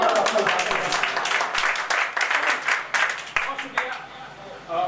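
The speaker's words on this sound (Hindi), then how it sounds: "अगर आप अख्तर इलाहाबादी को सुनना चाहते हो तो तालियां बजाकर" A mushaira audience claps for Akhtar Allahabadi, a short burst of uneven, moderately loud applause with some voices mixed in, thinning out by the end.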